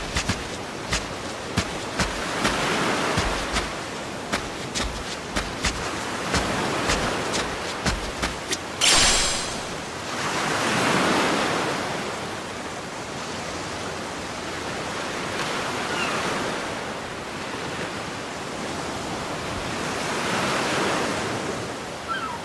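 Ocean surf washing onto a beach in the video game Yakuza Kiwami 3, a broad steady roar of waves that swells and recedes. Sharp clicks and ticks come early before the surf takes over alone.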